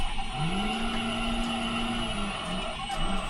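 A van driven hard with no clutch and no handbrake, its engine holding a loud, steady rev with a rising then sustained drone and brief pitch dips near the end.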